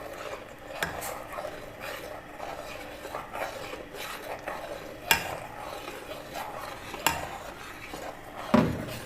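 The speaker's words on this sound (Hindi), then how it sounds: "मसलसल चमचा हिलाते जाना है कि गुठलियाँ ना बने इसमें" A spoon stirs custard into sweetened milk in a pot for a bread malai dessert, giving steady scraping and swirling with a few sharper clinks against the pot, close by and with no talking.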